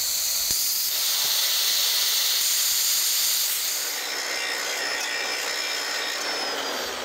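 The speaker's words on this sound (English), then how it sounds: "cut out the cups for the bump stops and grind them down" A power grinder working on the metal bump stop cups of a Chevy Silverado during a 6-inch lift install, a loud continuous high hiss and whine that eases slightly toward the end, alone without talk.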